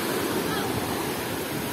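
Black Sea waves wash onto a sandy beach, a loud, close, continuous roar of surf with some wind buffeting the microphone.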